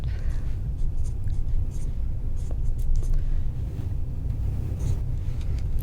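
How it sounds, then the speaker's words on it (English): Pen writing on a piece of paper, a soft scratchy scribbling with small irregular strokes over a low steady background rumble, close and continuous. "you got to write it down on your piece of paper"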